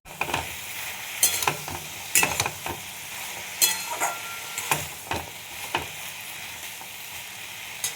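Watery mixed vegetables fry in a pan under irregular, fairly loud clanks and scrapes of a stirring spoon. A quieter sizzle fills the gaps between strokes.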